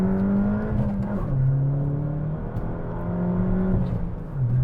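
A small turbocharged sports car accelerates close by, with a steady engine drone whose pitch climbs and drops through gear changes and a hint of turbo lag, alone and without talk.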